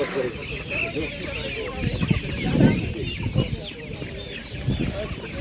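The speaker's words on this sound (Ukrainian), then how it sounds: "Ого, скільки курочок." Many chickens for sale cluck and squawk close by at a busy, noisy market, with steady background chatter and bustle throughout.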